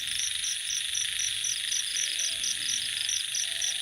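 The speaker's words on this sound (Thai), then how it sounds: "เสียงกบ" Frogs croaking alongside insects in a natural outdoor setting, a steady loud chorus with a regular pulsing chirp repeating throughout, with no talking.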